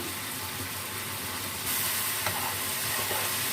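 Chicken browning with salt and chilli for a chicken biryani, giving a steady broadband sizzle throughout that grows slightly louder partway through, with a couple of faint clinks and no voices.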